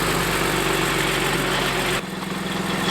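A BMW E46 M3 engine idles steadily on its standard exhaust, a dense, constant rumble with a smooth, even hum that drops slightly in level near the end.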